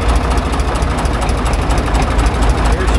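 The diesel engine of a TD15 dozer idles with a dense, rough, knocking rumble, loud and close, with a steady uneven throb throughout.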